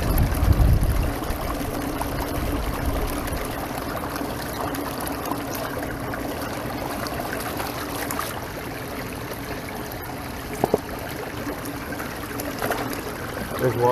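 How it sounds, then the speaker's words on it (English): Water pours steadily out of a drainage culvert at a commercial building site, a continuous rushing trickle heard close by with a brief low rumble at the start and a few faint knocks. "There's a lot of water coming out of this culvert too."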